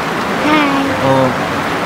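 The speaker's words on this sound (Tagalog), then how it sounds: "Medyo malakas po yung ulan mga kalangga, kaya hindi masyadong narinig po yung mga boses po nila." Heavy rain on a mountaintop pours as a steady broadband hiss throughout, with children's voices faintly speaking under it.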